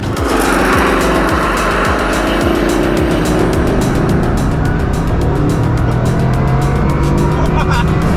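Bugatti Chiron Super Sport launching and accelerating hard, a loud, sustained engine roar with rising pitch and gear-change steps, close up and continuous for the whole stretch.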